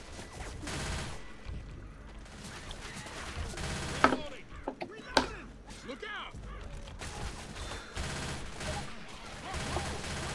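Left 4 Dead 2 gunfire crackles through a zombie-survival round, bursts of shots and rapid fire cracking amid game noise, with faint voices and chatter mixed underneath.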